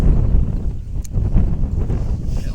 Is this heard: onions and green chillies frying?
no